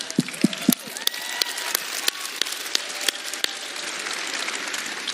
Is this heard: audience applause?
yes